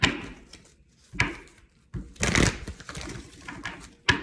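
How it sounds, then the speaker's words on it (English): Crisp bursts of a card deck being riffled and shuffled, several quick rustling runs separated by short pauses, close and fairly loud. "One more shuffle."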